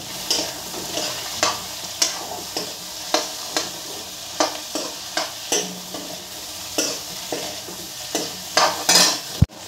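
Carrot pieces for pork chow mein stir-frying in a pan: a loud, continuous sizzle broken by a regular run of sharp scraping stirs about once a second, with a final clatter at the end and no talking.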